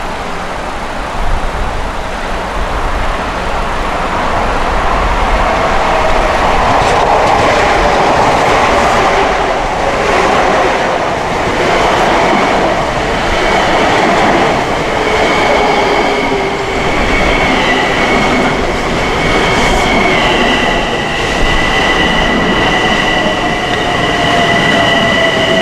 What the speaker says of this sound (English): we have train 2063 with the M7 set now coming in